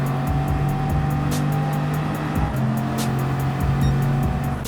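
Gr.4 Bugatti Veyron racing at Le Mans in Gran Turismo 7, a loud steady engine roar with shifting pitch as the car comes off the brakes and accelerates, gear change midway, no talk.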